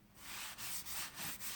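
Abrasive paste called Yorkshire grit rubs against spalted wood spinning on a lathe, giving a close, steady hissing rasp with a few brief pulses as the pressure shifts.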